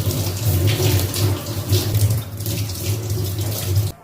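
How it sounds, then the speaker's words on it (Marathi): Running tap water splashes steadily over savar pods being washed in a sink, a close, continuous gush that stops abruptly at the end. "दोडे आपण अगदी दोन ते तीन पाण्याने स्वच्छ धुवून घेणार आहे"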